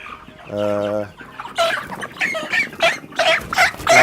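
Broiler chickens on an African poultry farm give a loud, close cluck, then a busy run of overlapping clucks and calls from the flock.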